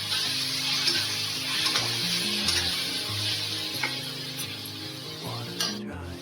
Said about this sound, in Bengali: মশলাটাকে ভালো করে ভেজে নিই।